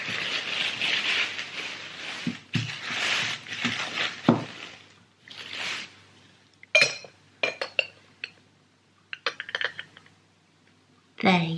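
A china lid from an English loose-tea pot gives several light, bright clinks and taps against the porcelain in a shop, close and brief, following an earlier stretch of talk.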